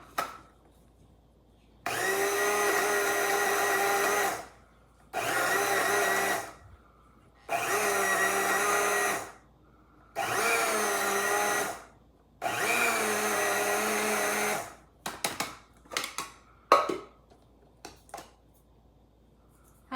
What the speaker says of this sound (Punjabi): ਇਹਨੂੰ ਆਪਾਂ ਇਹ ਗ੍ਰਾਈਂਡਰ ਦੇ ਵਿੱਚ ਪਾ ਲੈਣਾ ਹੈਗਾ ਆ